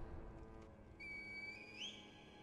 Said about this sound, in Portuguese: Chamar o herdeiro divino com o apito de junco?